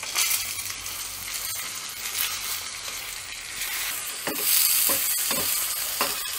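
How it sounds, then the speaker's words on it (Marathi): Stuffed brinjals with mustard seeds, curry leaves and turmeric sizzling steadily in hot oil in a kadai, a dense close frying hiss with a few sharp clinks of a stirring spoon toward the end. "ही वांगीना आपण तेलामध्ये म्हणजे आपल्या फोडणीमध्ये जरा एक 2-3 मिनटं शिजवून घेऊयात"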